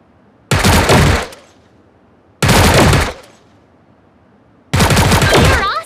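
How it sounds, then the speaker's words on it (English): Three separate bursts of rapid automatic gunfire from the mobile shooter game Sausage Man. Each loud, dense burst lasts under a second and is followed by a quiet gap. "Aim and tap the fire button to shoot enemies."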